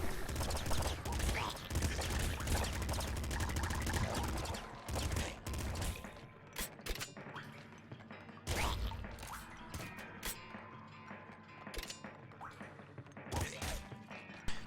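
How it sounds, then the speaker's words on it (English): Rapid crossbow shots in the top-down shooter Nuclear Throne: a dense, loud barrage of overlapping shots and impacts at first, then thinner, scattered bursts of firing and crashes, with speech at points. "So he can basically fire multiple crossbow shots, which is really nice."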